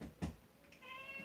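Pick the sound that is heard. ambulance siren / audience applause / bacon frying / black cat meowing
black cat meowing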